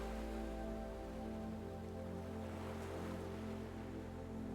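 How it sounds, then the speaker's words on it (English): Ocean surf on a sandy beach, a soft continuous wash of waves under a low steady hum, faint and even with no distinct breakers standing out. "you can hear the ocean"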